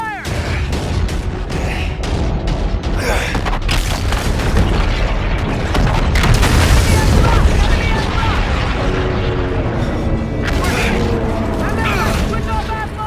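A naval battle in a video game fills the mix with loud, dense booms of gunfire and explosions, mechanical clanks and bursts, while voices shout combat commands throughout.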